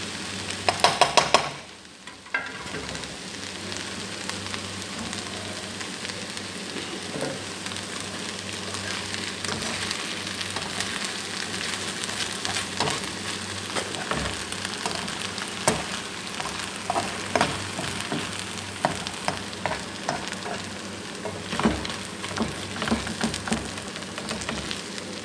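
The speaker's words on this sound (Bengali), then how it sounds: "আর আমার মতো সজনা পাতা ভাজি করবেন এভাবে।" Drumstick (sajna) leaves frying in a pan, a dense, even sizzle running throughout with scattered crackles and occasional stirring scrapes after a brief clatter at the start, close and loud, no speech.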